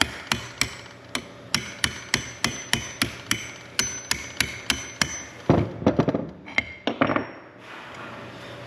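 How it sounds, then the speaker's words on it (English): A steady series of sharp metallic hammer strikes on a punch while fitting a clutch kit on a minibike's primary drive, about two per second, then a few clinking, scraping knocks as metal parts shift. "So that is what you need the hammer and the punch for."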